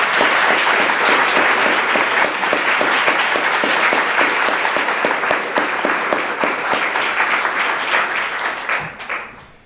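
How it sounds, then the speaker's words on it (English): An audience applauds moot court competition participants, loud dense clapping sustained for nearly ten seconds before tapering off at the end. "I'd start off just with a round of applause for everyone who participated."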